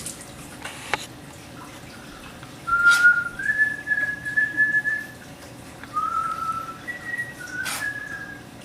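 Someone whistles the wedding march "Here Comes the Bride" in a home kitchen, a clear melodic line of sustained notes rising and stepping in phrases, moderately close over faint room noise with a couple of small clinks.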